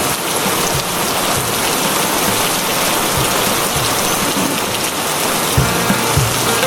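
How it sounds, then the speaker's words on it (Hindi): Heavy rain pours steadily in a continuous loud hiss of drops on surfaces, with a few low thumps near the end. "पर इतनी भारी बारिश में मैं जाऊं कहाँ?"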